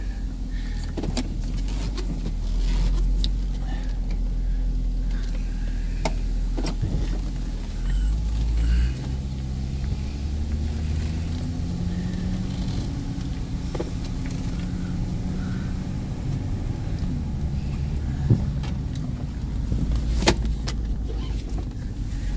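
A 1998 Chevrolet Corvette on a test drive, its engine a steady low rumble with road noise throughout, a few brief clicks and knocks rising near the end.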